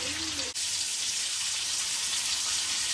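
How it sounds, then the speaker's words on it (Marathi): Pomfret fish frying in a pan gives a steady, dense hiss of hot oil, fairly loud and close, with a brief clink near the start. "आता आपले पापलेट बघा फ्राय झालेले आहे"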